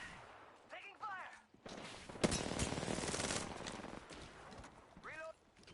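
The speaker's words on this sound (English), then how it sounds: "Taking fire!" Bursts of automatic gunfire rattle through a multiplayer shooter match, dense volleys in the middle framed by short in-game voice callouts before and after.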